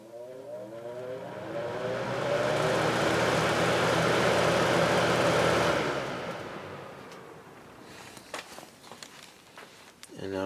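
A vintage 1983-84 Lasko box fan motor rises in pitch as it spins up to high, a swelling whirring hum that fades back down, followed by faint handling clicks.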